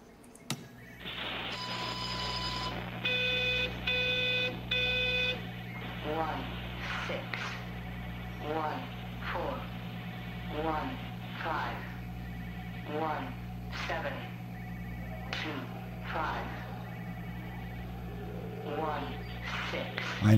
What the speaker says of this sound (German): Ich höre, glaube ich, ein Telefon klingeln.